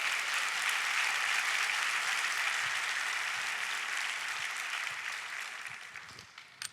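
Loud, dense applause from a church congregation honoring Christ during a Spanish-language service, sustained at full strength before gradually thinning and fading toward the end.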